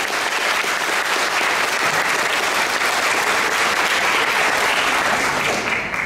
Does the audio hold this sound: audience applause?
yes